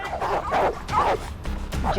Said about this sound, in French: Ce chien aboyait tout le temps.